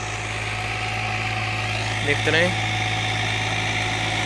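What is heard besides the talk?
Massey Ferguson 245 tractor engine running with cultivator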